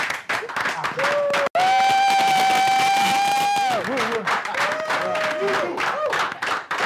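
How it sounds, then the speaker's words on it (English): An audience at a company anniversary launch event claps and cheers to welcome the chairman, with a sustained, drawn-out cheer standing out over the spread-out applause. "Let's all welcome with a wonderful round of applause"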